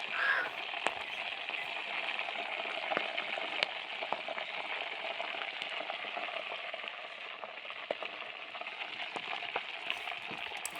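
Village-style ghee being made as cow butter cooks down in a pan, a steady dense crackle and fizz of bubbling fat with occasional sharper pops, continuous and close.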